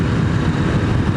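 KTM 890 Rally motorcycle engine cruising in sixth gear at about 2,000 RPM and 43 mph, a loud, steady low-pitched drone with wind rush over it and no talking.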